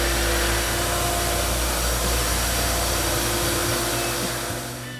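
Square orbital floor sander running on a wood floor: a loud, steady broadband roar with a constant low hum, close by and continuous, fading slightly at the end.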